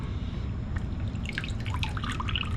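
Water dripping and trickling off a thawed feeder rodent during a ball python feeding, with soft, irregular little drips over a low steady background hum, close and quiet.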